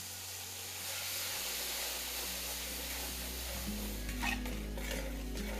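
Tomato hits hot oil spiced with Kashmiri chilli powder, giving a steady close sizzle and hiss with soft stirring scrapes in the pan, growing slightly fuller partway through.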